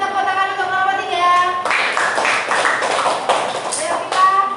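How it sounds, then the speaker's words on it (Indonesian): Classroom applause for a student group breaks out after a teacher's voice, a burst of many small hands clapping in quick uneven rhythm, fairly close and moderately loud, with voices faintly underneath. "Kita kasih tepuk tangan untuk kelompok 3."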